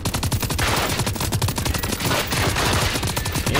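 Rapid automatic gunfire in a video game, fired at a hunter: loud, dense bursts of shots in quick succession with only a brief lull partway through, no talking.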